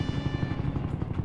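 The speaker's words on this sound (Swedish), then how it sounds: "Nu blir helikopterljudet lite högre här" Helicopter rotor in the Roblox game Jailbreak, a steady rhythmic low thumping chop that stays loud and close for the whole short stretch, with no talking.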